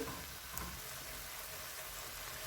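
Chicken seasoned with Mexican spices fries in a pan, giving a steady, even sizzle with nobody talking.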